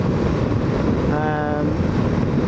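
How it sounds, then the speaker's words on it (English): Steady wind gusts buffet the microphone on a motorbike tour in Scotland, with a constant low rumble and hiss, briefly joined by a faint tonal hum in the middle. "it is windy now"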